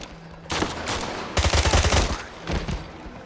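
Rapid gunfire in the James Bond: Blood Stone video game, with two loud bursts of automatic shots and a shorter volley after, close and dominant.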